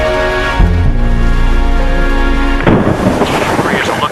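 A violent thunderstorm sweeps in with loud, deep rumbling and a sharp crash partway through, set against a sustained musical tone.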